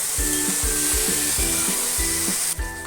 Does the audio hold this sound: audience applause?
no